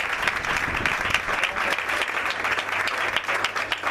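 Church congregation at a Sunday evangelistic service breaking into sustained applause, dense crowd clapping heard up close and loud, steady throughout without speech.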